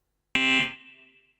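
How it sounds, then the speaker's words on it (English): A trivia game buzzer is hit once, giving a sudden loud electronic buzz that lasts about a quarter second and then decays quickly into a fading ring, with silence before it. "Oppy has hit the buzzer."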